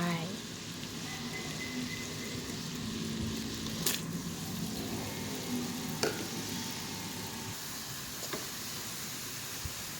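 Steady sizzling and bubbling of a pot of canned-fish curry with glass noodles on the boil, with a few sharp clicks and clatters as ingredients are dropped in.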